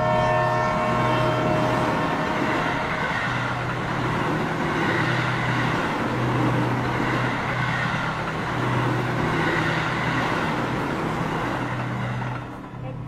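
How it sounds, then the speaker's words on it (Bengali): A mail train rushing past on the track, used as a sound effect in a Bengali horror story: a loud, steady roar and rumble that holds for the whole stretch and drops off briefly at the end. "আপ লাইনের মেল ট্রেনটা ঝড়ের বেগে ব্রোজেনশিলের ওপর দিয়ে চলে গেল"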